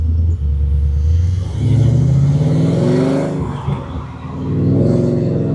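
Supercharged Coyote-swapped car pulling hard, its engine roaring loud and close as revs climb, dip briefly during a shift, then surge again in a heavy, rumbling run.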